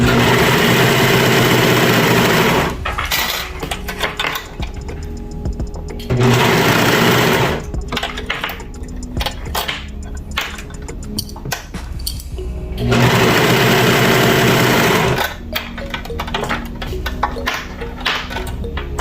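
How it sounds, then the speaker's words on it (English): Serger sewing machine stitching sleeves onto a t-shirt dress, running loud and close in three sustained bursts of fast mechanical whirring, with short pauses and lighter handling noise between runs. "let's go ahead and get these sleeves serged on"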